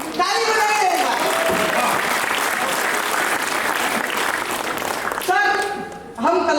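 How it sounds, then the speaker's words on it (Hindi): Audience at an all-India poetry gathering in Khariar, held in memory of a former minister, breaks into sustained, dense clapping for several seconds, with a voice speaking briefly before and after. "आपको अच्छा लग रहा है? ताली बजाइए एक बार।"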